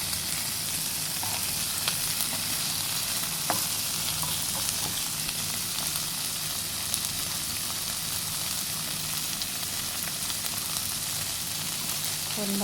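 Shrimp frying in a pan with garlic and fresh chili, a dense, continuous loud sizzle close by, with faint stirring clicks and no talking.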